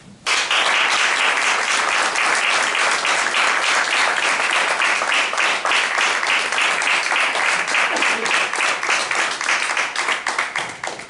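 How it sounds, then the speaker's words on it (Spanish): Strong applause from the audience at a book presentation for "La belleza de Madrid": loud, dense clapping from many people that holds steady and close for about eleven seconds, with only a slight thinning near the end. "voy a pedir también un fuerte aplauso."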